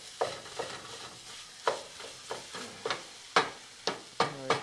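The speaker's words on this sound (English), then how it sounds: "So we're going to start by frying this up." Sausage frying in a pan, heard as a series of sharp scraping and sizzling bursts from stirring, about every half second, close by with no talking.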